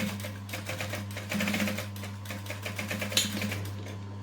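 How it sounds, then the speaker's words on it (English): Sewing machine stitching down a seam allowance on a fabric clutch at a longer stitch length, a steady close mechanical whir with rapid needle clatter running throughout, rising slightly in the middle. "increase my stitch length, and stitch down"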